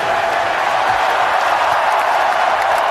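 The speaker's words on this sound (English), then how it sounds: "Crowd rising to its feet." A basketball arena crowd at a Raptors versus Wizards playoff game roars in a dense, steady wall of cheering, loud and continuous.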